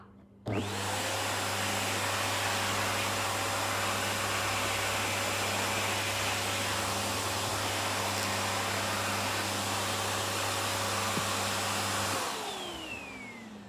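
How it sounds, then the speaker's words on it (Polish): A Bosch Serie 2 vacuum cleaner switches on abruptly, roars at a steady high-pitched whine for about twelve seconds, then powers down with a falling tone. "Słyszeliście, jaka to moc, siła tego odkurzacza."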